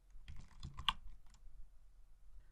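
Computer keyboard typing while entering letters into a software input field: a quick burst of close, soft key clicks in the first second, then scattered lighter taps over a faint background.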